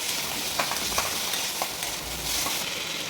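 Salt being stirred into a sizzling spice mixture for aloo dum in a pan, with a steady frying hiss and a few soft scrapes and taps of the spoon.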